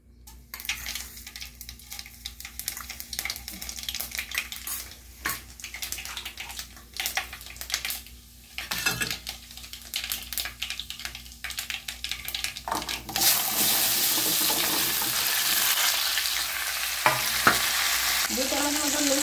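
Panch phoron spices crackle and fry in hot oil in a pan, with irregular stirring scrapes and pops, then the oil sizzle grows into a loud, steady hiss.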